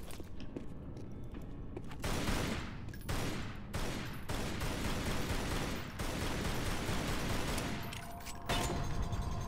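Gunfire in Tomb Raider Anniversary: a sustained, dense barrage of rapid shots with sharp cracks stacked over a constant loud noisy backdrop, with a few heavier bursts near the end.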